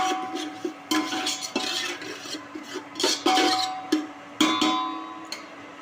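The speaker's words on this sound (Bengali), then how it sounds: "বিরিয়ানি মশলা দিয়ে ভালো করে একটু নেড়ে নেব।" Biryani masala being stirred in a metal pot with a spoon, producing repeated scraping and clinking strokes in an irregular rhythm, close and fairly loud.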